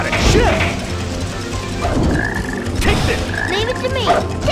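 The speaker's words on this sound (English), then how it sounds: "There's that black frog again!" A black frog in Sonic Heroes, in the Lost Jungle stage, croaks loudly several times in quick succession amid busy game sound effects and character voices.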